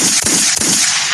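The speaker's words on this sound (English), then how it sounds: "I'm sorry, Courtney, too many gunshots." Two sharp gunshot cracks from a movie trailer, loud and close, spaced about a third of a second apart over a bright hissing background.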